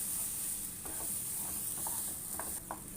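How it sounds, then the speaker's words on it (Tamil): Thick ground moong dal paste stirred in a pan for halwa, a soft steady scraping with faint sizzling, a few brief louder strokes of the spoon, close and without any voices. "பாசிப்பருப்பு நல்லா மிக்ஸ் பண்ணி விட்டுக்குங்க, தீயாமல் இருக்கிறதுக்கு."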